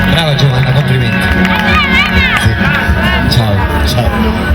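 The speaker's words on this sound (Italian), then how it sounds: "un bel applauso per Giovanna che ci ha cantato questa bella canzone" Outdoor audience at a 2006 Sicilian town-square show cheering and applauding for a singer named Giovanna, a dense, steady crowd roar with whoops and shouts throughout, a host's voice carrying over the top.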